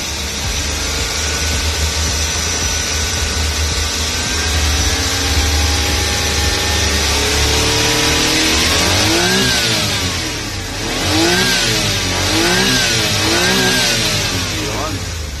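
Suzuki DA64V van with automatic transmission, its engine revved repeatedly while parked: a steady idle climbs into several rising-and-falling revs near the end, loud and close, with someone talking over the engine.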